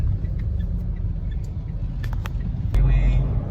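A car drives along the Skyway with a steady low engine and road rumble, heard from inside the vehicle and growing heavier near the end.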